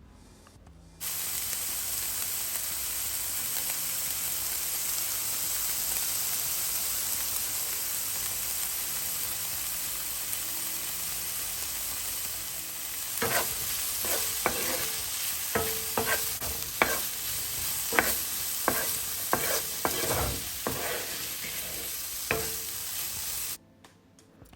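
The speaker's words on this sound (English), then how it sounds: "You want to saute them. Trust me, Vybz fam, the flavor pops out. So I love sauteing these together." Vegetables sauteing in a pan for jerk chicken with ackee start as a steady sizzling hiss, then a run of rhythmic stirring scrapes and taps comes in over the sizzle, close and without talk.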